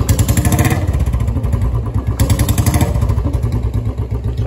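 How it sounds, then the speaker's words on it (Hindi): A fully modified motorbike engine with a changed silencer runs close by, a steady throbbing beat with a couple of louder swells, heard alone on a rainy day. "फुल्ली मॉडिफाइड बाइक पे चलते हैं, इसकी आवाज़ सुनाता हूँ मैं आपको।"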